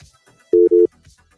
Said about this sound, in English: We got a caller on the phone line.